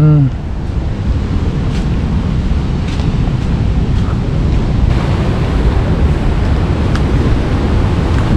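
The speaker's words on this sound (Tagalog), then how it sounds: "kita nyo naman lakas ng hangin oh" Strong, steady wind roars and buffets the microphone continuously, with a broad rushing noise like surf underneath and a voice briefly audible.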